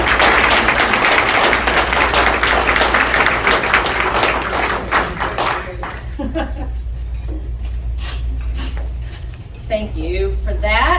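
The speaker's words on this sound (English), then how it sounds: "So please give a warm We the People applause." An audience applauds to welcome the mayor, steady dense clapping for about five seconds that then thins out as a voice begins speaking.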